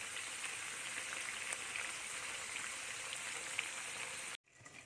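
Mackerel with bird's eye chilli fries in a pan, giving off a steady close sizzle and crackle that runs continuously, then cuts off abruptly near the end.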